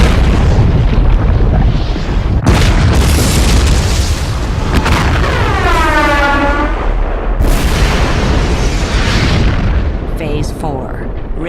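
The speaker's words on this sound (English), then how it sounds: "Seawater rushed into this inferno, creating a pressure cooker of superheated steam, which set off a massive explosion with the force of 40 atomic bombs." A massive volcanic steam explosion, set off when seawater floods into magma, renders as loud sustained booming and roaring that fills the whole clip, with a swept whooshing tone in the middle and a narrating voice over it.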